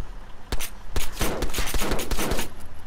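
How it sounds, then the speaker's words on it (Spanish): Bursts of gunfire in the military shooter Arma 3, a rapid volley of sharp, loud shots with scattered single cracks around it, continuing steadily through the moment. "¡Mierda! ¿Están disparando?"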